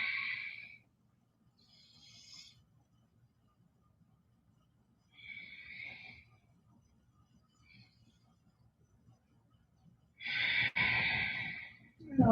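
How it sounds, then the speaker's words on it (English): Slow yoga breathing timed to spinal movement, a few distinct breaths in and out with quiet gaps between them, close and soft, ending in a louder, longer exhale. "Breathing in and out with the change of spinal position."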